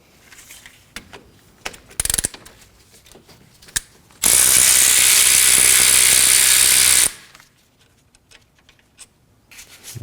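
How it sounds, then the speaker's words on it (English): A ratchet with a 14mm socket works a brake caliper bolt loose on a 2013-2015 Subaru XV Crosstrek, first in a few scattered clicks, then in a loud, fast continuous burst of ratcheting that stops abruptly and is followed by faint taps. "We're going to remove this caliper bolt using a 14mm socket."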